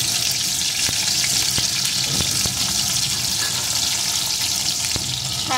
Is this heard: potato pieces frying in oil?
yes